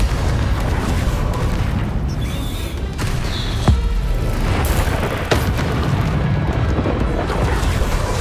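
Confringo spell blasts in Hogwarts Legacy combat, heavy booming explosions rumbling continuously with sharper bursts cracking through, loud and close, with no talk.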